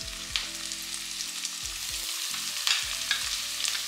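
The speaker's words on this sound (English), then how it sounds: "Saute it for a few more minutes, letting the saltfish soak up all of that flavor" Chunky saltfish sautés in a pan with aromatics for a Jamaican breakfast, making a steady close sizzle broken by occasional spatula scrapes and stirring clatter, with no talking.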